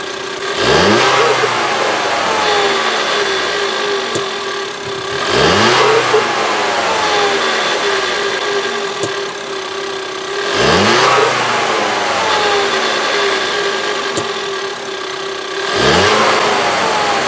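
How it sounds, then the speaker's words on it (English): A 2019 Ford Edge with the 2.0 EcoBoost engine revs three times in a steady cycle, each rise climbing to a loud, close roar before settling back to idle between pulls. "Now we'll rev the engine up."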